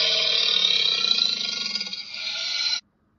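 A deep, rough rasping growl of an alligator, held steady and fairly loud for close to three seconds, then cutting off abruptly into silence.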